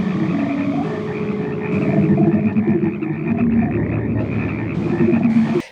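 Frogs croaking in the horror film Frogs, a dense, loud, continuous chorus of many overlapping croaks with a warbling, processed quality and no talking.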